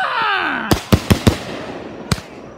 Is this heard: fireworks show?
yes